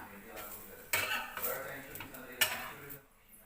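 Ceramic or steel plate clinks and knocks in a home kitchen while crispy jowar dosa cooks, a few sharp close clatters at irregular moments over a soft background sizzle.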